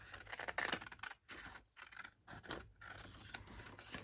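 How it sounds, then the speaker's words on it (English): Scissors snipping through paper craft pieces during card-making trims, a series of close, crisp cuts with brief pauses between them. "So trimming off the middle one because I don't need that."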